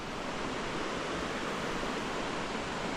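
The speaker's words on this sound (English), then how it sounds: "I'm back to having water sounds accompanying me" River water rushing steadily beside a hiking trail where the red and white trails meet, a dense, constant broadband roar with no breaks, close and fairly loud throughout.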